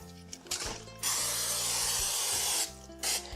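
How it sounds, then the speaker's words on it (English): A short hiss of cooking spray onto a skillet, one long burst lasting about a second and a half, then a brief second spurt, close by and fairly quiet. "spray our skillet with the cooking spray"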